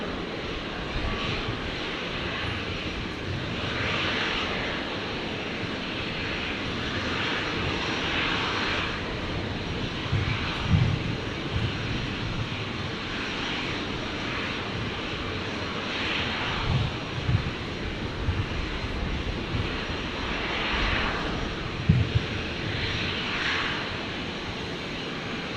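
Virgin Australia flight 1217 from Canberra landing at Brisbane Airport, a steady broadband jet roar that holds at a loud level throughout, with gentle surges and some rumbling low-end texture, no voices.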